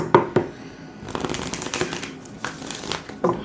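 Oracle cards are shuffled by hand, giving a steady papery riffle and slide that runs the whole time. Sharper card snaps land near the start and the end, with no talking over it.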